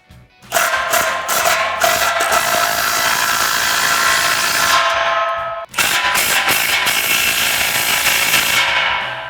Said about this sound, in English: we can go ahead and tighten down all of our clamps using our 15mm socket